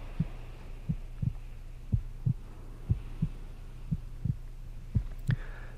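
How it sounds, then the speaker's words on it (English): A slow, regular heartbeat plays in the background, soft paired thumps repeating about once a second over a low steady hum, with no voices. "Now you'll be hearing the heartbeat in the background"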